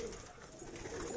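Faint, low cooing from an Andhra pigeon in a loft comes through a short, noisy, muffled stretch.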